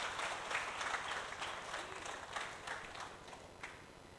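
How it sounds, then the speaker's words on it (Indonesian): Audience applause in an indoor hall at a motivational talk, a steady spread of many hands clapping at moderate level with no single standout claps, holding for several seconds. "Tepuk tangan buat Mas Haris dong ya."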